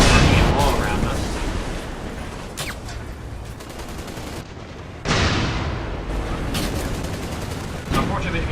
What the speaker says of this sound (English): Bombs are all around us.